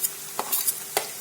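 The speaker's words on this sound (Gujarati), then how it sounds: "તો લસણ આપણે અંદર લઈ લઈશું" Finely chopped garlic dropped into an onion tempering in hot oil, giving two or three short crackling bursts of sizzle with light stirring, close and alone without speech.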